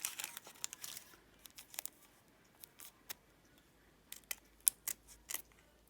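Scissors snip through fabric for a Christmas wreath collage, making a series of short, crisp cuts in irregular bursts, close and fairly quiet against a soft room background.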